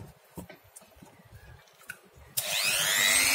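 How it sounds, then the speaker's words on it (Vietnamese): A hand saw cuts along a marked line while a phone charger is taken apart, starting after quiet handling noises with a sudden loud, steady rasping stroke close to the microphone. "Bắt đầu cưa mà các bạn nha"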